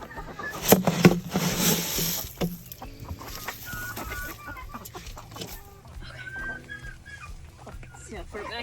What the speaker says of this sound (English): welcome to the coop, where I have my menagerie of just absolute insane hens